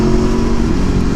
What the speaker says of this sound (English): the sound of the V4 engine when you whack the throttle wide open